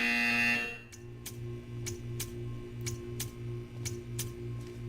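A loud electronic buzzer sounds in Portal 2, one sustained harsh tone that cuts off, followed by a steady low hum with a regular ticking pulse.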